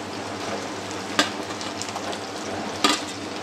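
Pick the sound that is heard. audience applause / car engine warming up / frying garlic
frying garlic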